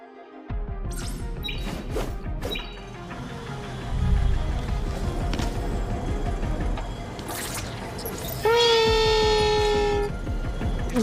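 A train running in the video game Etheria: Restart, rumbling and clanking steadily with a rising mechanical whine, then a long loud horn-like tone near the end.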